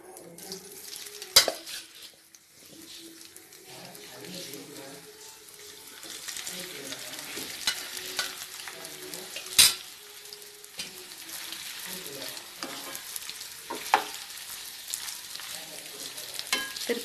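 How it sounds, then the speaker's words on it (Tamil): Cauliflower shallow frying in hot oil, a steady low sizzle with a few sharp clatters and stirring knocks, fairly quiet and close throughout. "இப்போ எண்ணெய் காஞ்சிடுச்சு. நம்ம இதை போட்டு ஷாலோ ஃப்ரை பண்ணிக்கலாம்."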